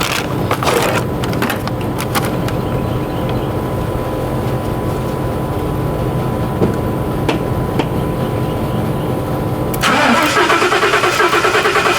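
A Lincoln Navigator engine cranks with a steady churning whir for several seconds, then catches and fires up into a louder running rumble near the end, close by and without talk.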